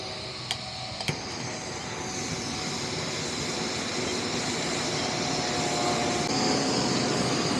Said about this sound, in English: Still have airplanes flying overhead.